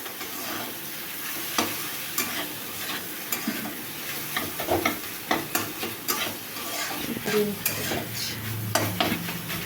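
Crumbled boiled egg frying with ground spices such as cumin in a pan, giving a soft steady sizzle broken by repeated scrapes and clinks of a spatula stirring against the metal.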